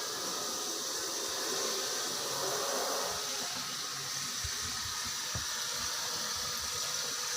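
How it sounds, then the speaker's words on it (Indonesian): Clean tap water runs steadily from a faucet into a container holding liquid soap, a continuous broadband rush of flowing water with a few soft knocks near the end, no voices. "saya akan mengisinya menggunakan air bersih secukupnya, air mengalir"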